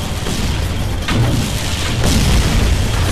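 Explosions boom in the video game Gatling Gears, a dense, continuous rumble of blasts with two sharper bursts standing out about a second apart, loud and close throughout.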